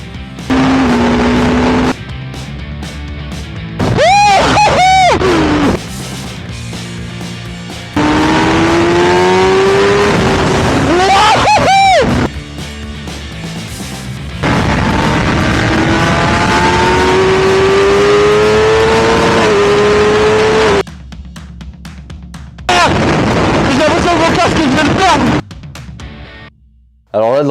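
A high-revving Kawasaki ZX-10RR sport motorcycle engine climbs through its gears again and again on a track, screaming loud and close, in several abruptly cut bursts.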